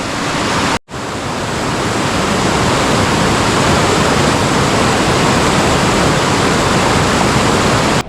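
The Guadiaro river rushes near Jimera de Líbar, a loud, dense broadband roar of flowing water that drops out briefly near the start and then continues steadily and close without any voices.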